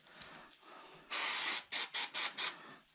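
Brake cleaner sprayed onto a bicycle chain: after quiet handling, one long hissing aerosol burst is followed by four short rhythmic spurts, loud and close.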